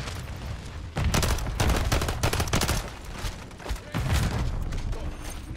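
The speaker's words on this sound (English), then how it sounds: "Headshot with the Renetti." Rapid Renetti pistol fire in Modern Warfare 3: dense bursts of loud, close shots packed together, with a brief lull between bursts, heard over game ambience.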